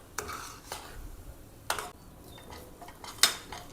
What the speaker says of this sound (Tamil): கைவிடாமல் அப்படி நல்லா கிண்டிகிட்டே இருங்க.